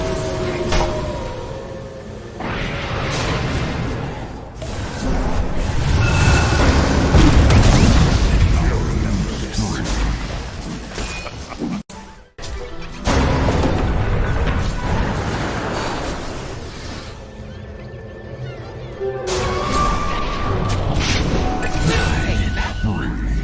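Explosions and combat din from towers under attack in a Dota 2 match between OG and Tundra at ESL One Berlin Major 2023, with loud rumbling booms and clatter rising and falling under an announcer's voice.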